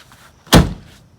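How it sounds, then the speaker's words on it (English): A single solid thud of a VW Bus passenger door slamming shut nearby, short and loud, with quiet surroundings before and after. "close my door"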